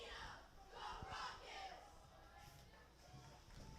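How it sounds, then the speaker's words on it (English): Crowd at a Walpole varsity high school football game against Needham, cheering and yelling as cheerleaders hype them up; a sustained, fairly distant roar with swelling shouts, under an announcer's talk. "As the cheerleaders are hyping up this crowd"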